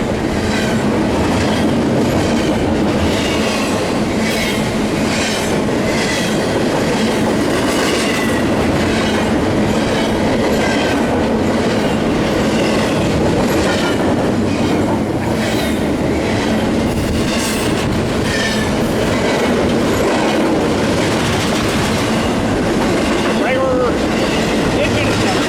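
A train rolls past on the rails at Fullerton, loud and close, a continuous rumble with rhythmic clickety-clack from the wheels on the rail joints holding steady throughout.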